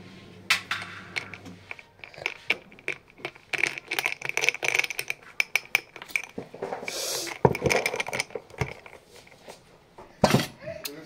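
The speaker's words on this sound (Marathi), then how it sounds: "आमगेली आयस लाटे एक बरो मिक्स दिया" An iced latte stirred in a glass, a busy run of metal-on-glass clinks, taps and rattling ice in uneven bursts, close and fairly loud, with a bit of background voice.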